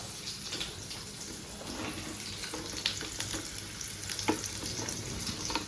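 Spinach stir-fry with egg and dried chillies frying steadily in a pan, a continuous soft sizzle with occasional stirring scrapes, close and moderately quiet.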